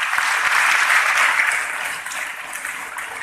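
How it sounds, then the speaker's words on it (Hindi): Students applaud together at a school event, a dense, steady wash of many hands clapping at close range that holds strong and then eases slightly toward the end, with no voices over it. "तो एक बार इस योजना के लिए तालियां हो जाए"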